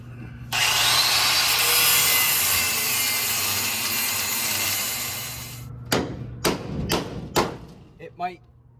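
An angle grinder cuts during a car hauler build, a loud, steady harsh roar for about five seconds that then stops, followed by several close thumps and knocks.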